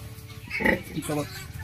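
Pigs and piglets grunt and oink on a pig farm, a few short close grunts in quick succession with a person talking over them.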